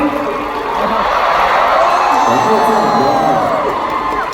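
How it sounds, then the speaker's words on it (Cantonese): A loud, steady concert crowd at a show cheers and whoops, with shouting voices blending into a continuous roar that holds for several seconds. "我哋俾啲掌聲先啦。"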